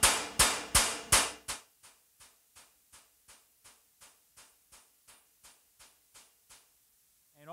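Hammer striking an aluminum TIG weld seam for planishing, a regular series of sharp metallic taps, four loud ringing blows followed by a long run of lighter, evenly spaced taps.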